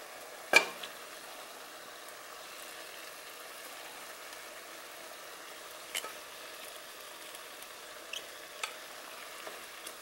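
Lamb pieces fry gently in a pan with a soft, steady sizzle, broken by a sharp clatter near the start and a few quieter knocks of utensils later.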